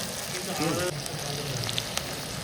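Dry chilies frying in oil for a picnic meal give a steady, dense sizzle throughout, while a voice talks over it.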